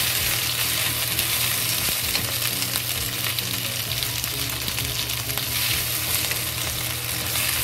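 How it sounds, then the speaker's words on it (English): Spinach stir-fries over a high flame, a dense, continuous sizzle with the crackle of moisture hitting hot oil and occasional spatula knocks against the pan. "And fry the spinach. Add spinach in the fry. With a high fire and a fast fry."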